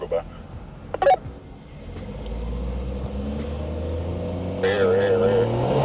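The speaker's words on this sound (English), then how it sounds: "Hold on, let this car go by." A car passes in traffic, a low rumbling engine swell building toward the end beneath the steady hum of the driver's own vehicle, with people talking over it.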